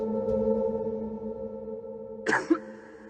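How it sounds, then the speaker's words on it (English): A single short cough bursts out near the end, preceded by a steady low electronic drone. "A person coughs once"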